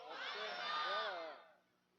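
A large religious gathering answers together in one loud, sustained chant of praise, many voices blending into a roaring swell that peaks and then fades away.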